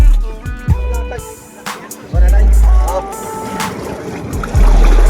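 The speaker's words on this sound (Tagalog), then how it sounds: "Ito na ang bangkang pinagpala." A bangka fishing boat arrives at sea off Tanza, Cavite, its engine rumbling close and loud with deep surging bursts and water wash. Someone talks over it.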